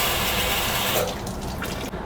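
Tap water runs hard under high pressure as hands are washed, a loud close hiss and splash that continues steadily, then shifts and thins slightly partway through.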